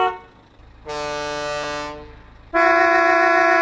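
Two separate car horn honks sound alone and up close. The first is a sustained blare of about one second, and a louder, brighter blast follows after a short gap.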